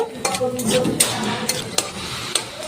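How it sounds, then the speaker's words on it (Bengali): Cashews and raisins fry in ghee and oil, a close sizzle broken by sharp clinks and scrapes of a spoon against the pan. "এবার কাজু আর কিশমিশ ভালো করে ভেজে নেব।"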